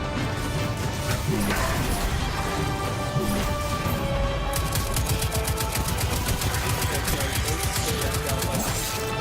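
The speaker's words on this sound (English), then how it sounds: "I can't hear you over the gunfire" Gunfire in the video game Destiny 2, with crashing impacts and clattering blasts, then a rapid, steady burst of automatic fire in the second half over a busy game soundscape.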